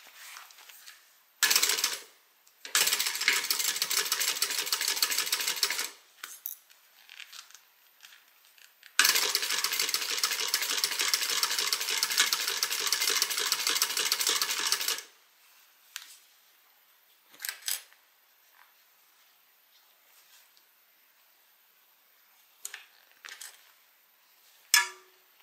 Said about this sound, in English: I need to top stitch this pocket closed.